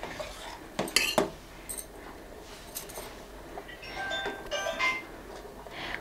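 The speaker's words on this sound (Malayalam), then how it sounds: "ഇങ്ങനെ ഇളക്കി കുറുക്കി കുറുക്കി എടുക്കാം" A spoon scrapes and clinks against a pot as palada payasam is stirred and thickened with ghee, a few sharp metallic taps and scrapes over a quiet background.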